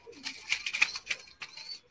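Pigeons with strong, hard beaks coo close by in short, repeated bursts, with a few sharper clicks in between and no talk over them.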